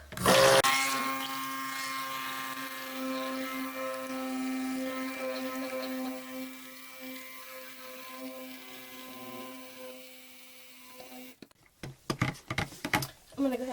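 A stick blender whirs steadily through cold process soap batter made with coconut milk, a loud sustained motor tone holding for about eleven seconds before cutting off, followed by a few clattering knocks and scraping sounds.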